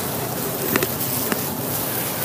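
A dense, steady buzzing hum of many honey bees in a hive, continuous throughout, with a couple of brief soft knocks partway through.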